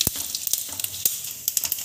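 A close, lively sizzle as cumin, dried red chillies and bay leaves fry in a little hot oil in a kadai, with crisp spitting pops and a few sharper crackles over a steady hiss and no one speaking.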